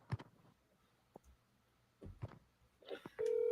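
Telephone line sounds during a call: scattered faint clicks, then a steady electronic tone starting near the end and holding at moderate level, with no speech.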